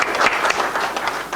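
Brief burst of conference audience applause, many hands clapping steadily and fairly close for just over a second.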